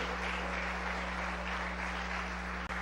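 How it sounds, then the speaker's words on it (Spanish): Church congregation clapping for Christ during a Spanish-language sermon, a steady continuous patter of hands, fairly quiet under a constant low hum, ending with a brief thump near the close. "Denle un aplauso a Cristo."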